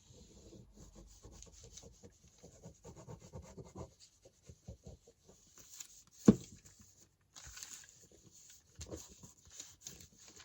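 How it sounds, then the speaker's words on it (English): Paper rubbing as a folded paper lunch bag is burnished flat, quiet scraping strokes in repeated bursts with a sharper single rub partway through. "So much easier to fold that when I've remembered to burnish it before I glue."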